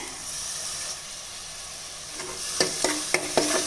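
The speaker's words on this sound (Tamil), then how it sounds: "இப்போ இதுலேயே கொஞ்சம் தயிர் சேர்க்குறேன்" Curd stirred into a ginger-garlic masala in a pan for a vegetarian lunch: a soft, low sizzle at first, then several sharp spoon scrapes and spattering bursts near the end.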